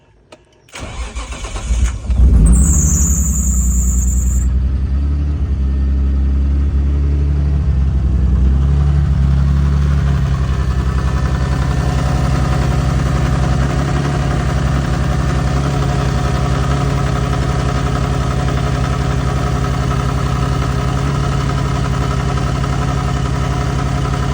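A Nissan Skyline R33 engine cranks and fires up outdoors, with a brief starter whir and a rev flare before settling into a steady, loud idle that rumbles on close by without talk.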